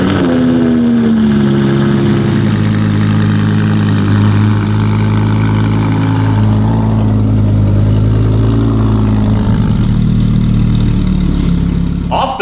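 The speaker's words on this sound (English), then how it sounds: "I gotta move the car, put it on ramps. It's about to be loud." Harlequin Audi R8 engine running while the car is driven onto ramps, a loud, steady low idle drone with a slight rise in revs, close to the car and with no talk.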